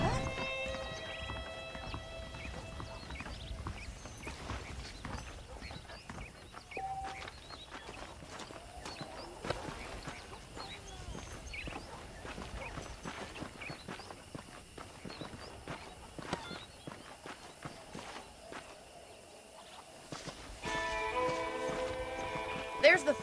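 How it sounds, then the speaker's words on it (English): Horse hooves clip-clop in the Red Dead Redemption video game, an uneven series of light hoof falls and footsteps at moderate distance, with background game sounds and brief musical tones at start and end. "The horses are saddled up over here."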